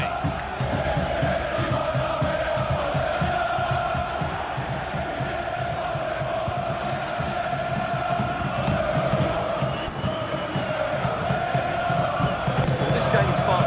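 Stadium crowd in the football video game FC26, a dense, steady roar of thousands of fans with chanting swells that stays loud and unbroken throughout.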